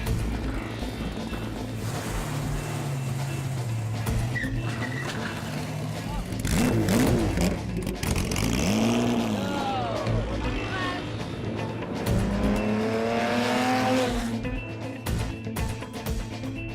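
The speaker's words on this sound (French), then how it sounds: "Les répliques sont acceptées, comme cette Morgan 3 roues datant de 2012." A 2012 Morgan three-wheeler replica driving at a classic car event, its engine rising and falling through revs and passing close, with a narrator talking over it for much of the time.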